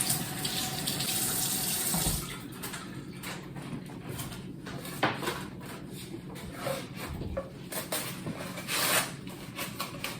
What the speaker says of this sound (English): When I cook, I wash my hands a million times.